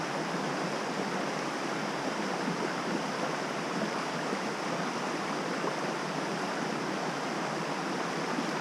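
Steady creek water rushing over rocks in a forest in North Carolina, a continuous broadband wash that stays even and close throughout with no voices.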